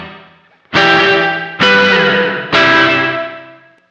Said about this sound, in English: So if we turn it down, we're going to get a smaller sounding reverb.